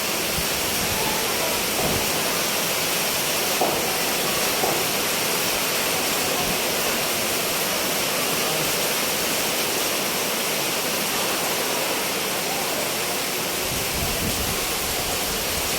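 Strong typhoon wind gusts in a steady, loud, broadband roar that surges and eases slightly without letup.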